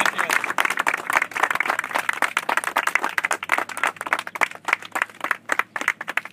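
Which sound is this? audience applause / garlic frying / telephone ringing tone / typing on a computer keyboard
audience applause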